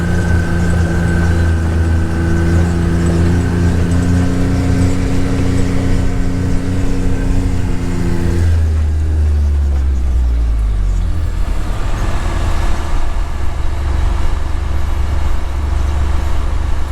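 A John Deere 8R 250 tractor engine runs steadily during an organic pea harvest, a loud close drone whose tone drops partway through as the engine note shifts, then holds low.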